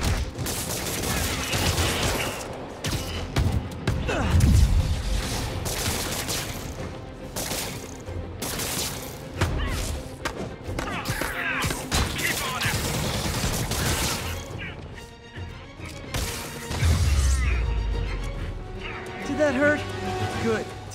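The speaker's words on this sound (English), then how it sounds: "We have reports of gunfire coming from multiple vehicles." Rapid gunfire from multiple vehicles during a Lower East Side chase in a Spider-Man game, bursts of shots mixed with crashes and engine noise, loud and continuous beneath game dialogue.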